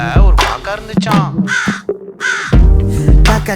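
Harsh crow caws come in several loud, close bursts, with short pauses between the calls.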